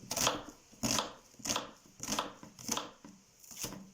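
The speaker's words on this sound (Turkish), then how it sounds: "Soğanımı ince ince doğrayarak tarifime başlıyorum" Six sharp, evenly spaced knife strikes finely chopping onion on a cutting board, crisp and close, with no talking.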